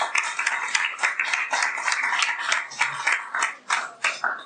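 A church congregation claps in scattered, uneven bursts, the individual hand claps fairly close and distinct, rising and falling in loudness with no voices over them.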